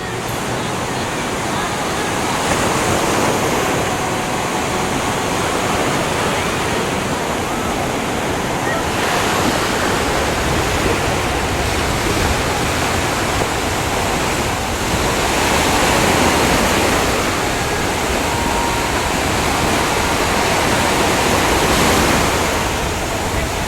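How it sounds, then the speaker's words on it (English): Ocean surf breaking at Newport Beach, a steady broadband wash with swells building and easing, waves big enough to reach about head height, continuous and fairly loud without clear speech. "those waves are almost over her head"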